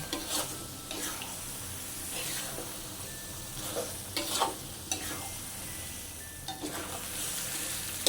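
Rendang padang being stirred in a pan, a spoon scraping and turning the thick mixture in irregular strokes over a low, steady sizzle of frying, close and moderately loud with no talking.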